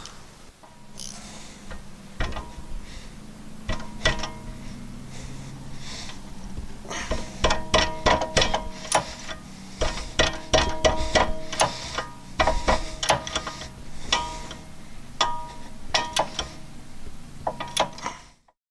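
Ratchet with a 17 mm socket working loose the rear shock bolts on a Honda Civic, a long run of rapid clicking bursts and metallic clatter, close and fairly loud, with short pauses between strokes.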